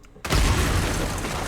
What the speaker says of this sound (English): let this explosion trail out some more